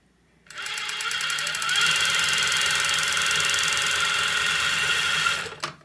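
A Merrow overlock sewing machine stitching fabric runs as a close, loud, steady high whir with a fast mechanical rattle. It starts abruptly and holds for about five seconds before cutting off.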